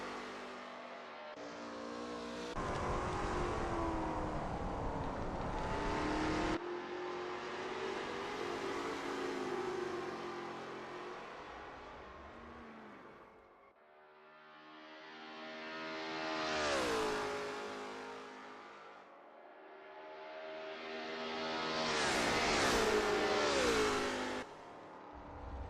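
A Lola T70 MkII Spyder race car in a racing video game at Österreichring, its engine roaring steadily and then rising and falling through repeated revs and gear changes over a long continuous stretch, with no talking.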